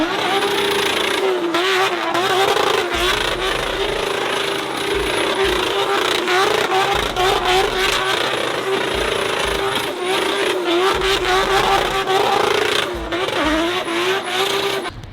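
A built SR20DET engine held on the rev limiter at an event, loud and close, bouncing off the cutoff in rapid stuttering bursts with brief drops between pulls, sustained for several seconds, crowd and engine noise around it.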